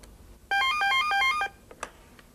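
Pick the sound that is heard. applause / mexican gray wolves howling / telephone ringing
telephone ringing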